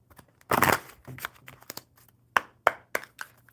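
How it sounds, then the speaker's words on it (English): A deck of playing cards is shuffled up close, giving a burst of riffling followed by a few crisp snaps and taps as the cards are squared, with no talking. "All right, David, one more good shuffle."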